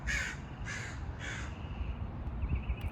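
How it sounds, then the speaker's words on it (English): A crow gives three loud, harsh caws in quick succession, close and clear, then falls quiet against a low rumbling background. "Very vocal bird, huh?"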